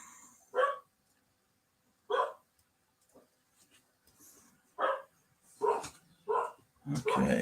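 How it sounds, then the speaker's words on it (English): A pet dog barks from the next room, muffled and moderately distant, with single woofs and short pairs spaced irregularly against a quiet indoor background. "My dog is in the room next door, barking at something."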